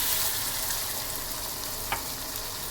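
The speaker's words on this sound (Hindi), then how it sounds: "अब थोड़ा सा डालेंगे इसमें पानी" Chicken karahi gravy sizzles steadily in a pan as a little water goes in, giving a continuous close frying hiss with a brief splash near the end.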